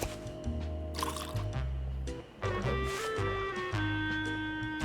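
Water trickles and drips into a paper cup in a video game, short liquid filling sounds over soft layered background music, fairly quiet.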